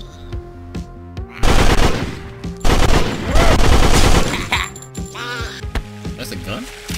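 Cartoonish gunfire in the Veggie Killer video game, bursts of rapid shots with clinking, metallic echoes over game music, and a player talking in between.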